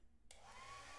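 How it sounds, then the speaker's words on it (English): A hair dryer in the co-op horror game Lethal Company switches on abruptly and runs as a steady, faint whooshing hum with a thin whine. "It's James with his hairdryer, bro!"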